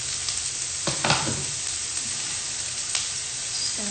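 Onions and garlic frying in a pan, a steady close sizzle throughout with a few brief stirring scrapes and clinks.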